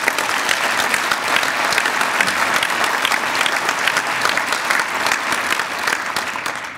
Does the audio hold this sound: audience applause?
yes